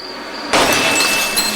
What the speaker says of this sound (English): the whistling of the wind at the portal tree made the little statue shatter